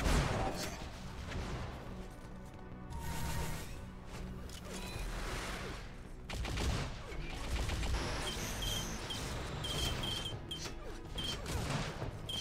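Weapon fire rattles through an Unreal Tournament competitive match, a dense stream of rapid shots and blasts layered with game effects and music, moderately loud and continuous throughout.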